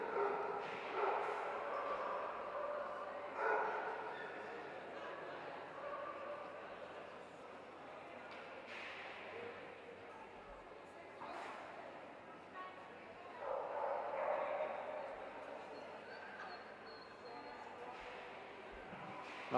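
At a hound show, a Basset Hound puppy gives repeated barks and yips, some close and some farther off, with a whimper among them. Voices talk over the background crowd noise.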